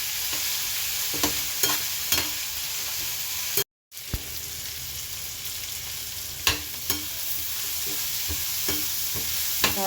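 Curry leaves, green chillies, onions, pepper, ginger and garlic sizzle steadily in hot oil for a cabbage curry tempering, with scattered clicks of stirring throughout and one brief silent gap.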